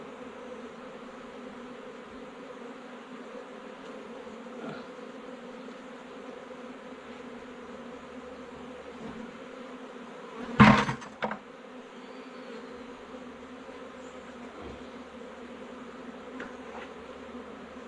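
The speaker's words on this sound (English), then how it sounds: "I thought we had a queen bee, but it's just a drone bee." Honey bees rescued from a storm-felled tree hum in a steady, soft drone around an open hive box, with a brief knock from handling the frames partway through.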